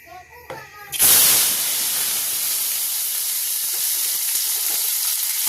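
Onion, garlic and tomato hit hot oil with a sudden loud sizzle, then settle into a steady, even frying hiss that carries on alone.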